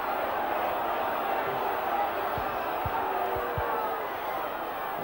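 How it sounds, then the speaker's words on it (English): A rugby league crowd in the South Stand of a Leeds v Hunslet Yorkshire Cup match makes a steady roar of voices and chatter throughout, with a few dull thuds near the middle. "The crowd in the South Stand below having plenty to say."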